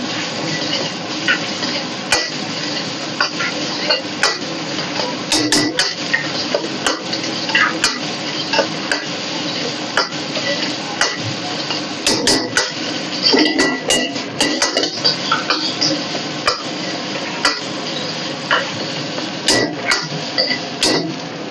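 Chopped chilli and onion sautéing in a pan for veg hot and sour soup, a steady hiss with frequent scraping and stirring clinks of a utensil against the pan, loud and close, no talk.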